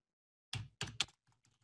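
A few quick keystrokes tap on a computer keyboard while a sheet name is entered in layout software, three crisp close clicks followed by two fainter ones in an otherwise quiet room.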